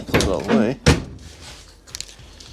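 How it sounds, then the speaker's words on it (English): The door of a Foxbody Mustang fitted with a rollcage shuts with a solid single thunk, right after someone speaks and followed by quieter cabin sounds. "So let me close the door here."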